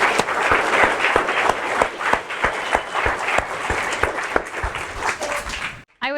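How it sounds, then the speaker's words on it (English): An audience at a startup event claps, with individual hand claps standing out from a steady patter before the sound cuts off abruptly near the end. "let's give her a big round of applause"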